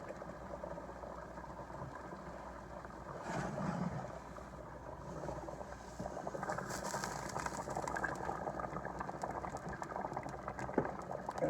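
A pot of oxtails bubbles at a steady boil, soft gurgling and fizzing that grows a bit louder partway through, with no one talking.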